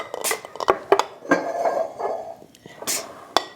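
Glass canning jars clink and knock together as herbed potatoes are packed into them, giving several sharp, close clinks spread over a few seconds amid quieter handling noise and faint voice.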